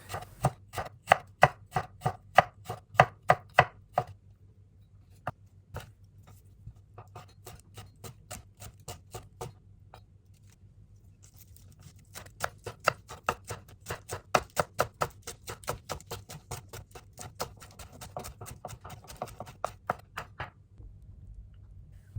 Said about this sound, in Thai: ไอก็จะซอยขิงใส่ลงไปด้วยค่ะ